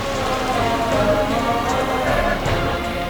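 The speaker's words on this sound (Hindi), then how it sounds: "इतनी बारिश में भीग रही है" Heavy rain pouring steadily on surfaces, a dense, constant hiss and patter close by, with no voices.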